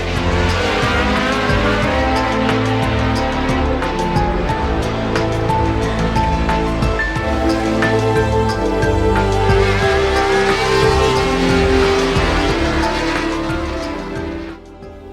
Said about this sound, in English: Pironi just moves across on Villeneuve